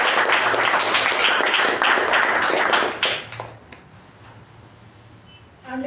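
Toastmasters meeting audience applauding a speaker and evaluator, a dense close burst of clapping that thins out and fades by the midpoint, leaving a quiet room with a few stray claps.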